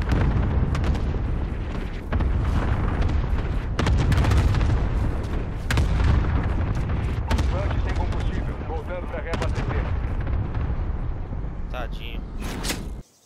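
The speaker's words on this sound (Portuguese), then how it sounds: "Quero um ataque aéreo aqui." Booming explosions and gunfire from an air strike in the video game Call of Duty Vanguard hit repeatedly in heavy, rumbling waves, with voices talking over the battle noise.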